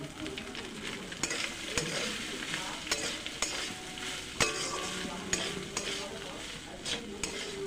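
A spoon scrapes and knocks against a pan in an irregular rhythm while cooked rice is stirred with fried cumin seeds, green chillies and curry leaves, a soft sizzle running underneath.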